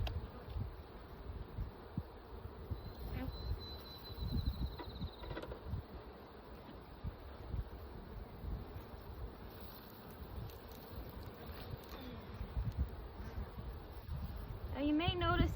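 Honeybees buzz around an open hive during a spring inspection, a steady low drone with occasional closer fly-bys, mixed with soft rustling and handling noises as the beekeeper works slowly.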